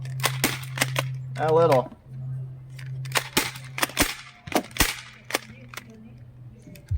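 A Nerf blaster fires darts in a quick series of sharp, close pops and clacks, with a brief whirring burst early on and a steady background hum, alongside a few spoken words.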